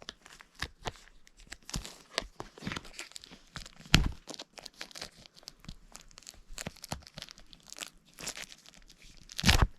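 Plastic wrap is torn and peeled off a Hanna-Barbera Blu-ray box set, making irregular close crinkles, crackles and sharp tearing bursts, louder near the start and end.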